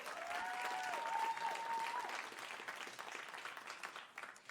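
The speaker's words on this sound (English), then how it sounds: "give them a round of applause for all their hard work" Audience applause for contestants at the 2019 Elite Miss Earth USA pageant, steady clapping from a crowd with a brief whistle early on, heard from a distance and gradually thinning.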